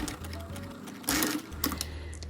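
A sewing machine stitches the facing of an A-line skirt in short close bursts, a rapid mechanical whir that stops and restarts with a louder run midway.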